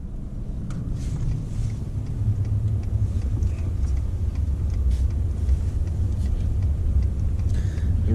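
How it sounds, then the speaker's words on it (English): A car drives slowly around a residential block, its low engine and road rumble steady and close throughout, with some wind buffeting the microphone. "I'm just taking a ride around our block here because our wind's not very good"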